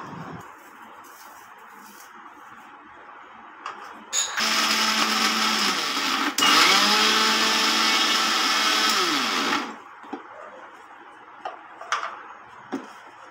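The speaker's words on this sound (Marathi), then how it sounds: "आता आपण जे तयार करून ठेवलेलं मिश्रण होतं त्याला मिक्सरमधून रवाळ रवाळ" A kitchen mixer grinder whirs loudly for about five seconds, coarsely grinding a rava and besan laddoo mixture. The pitch shifts midway through the run, and quiet clicks and handling knocks come before and after the burst.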